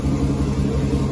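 A turbocharged LS V8 engine in a caravan idles steadily, giving off a loud, close, even low rumble with no pauses or voices.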